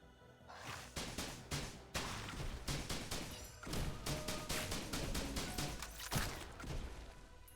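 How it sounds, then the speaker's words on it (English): Mortar fire in a video game: a series of loud, sharp launch blasts and crashing impacts with whooshes, repeating irregularly over a noisy battlefield backdrop. "just launch a mortar"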